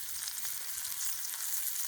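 Grayling fried in oil gives off a steady, even sizzle of fine crackling, close up and constant, with nobody talking.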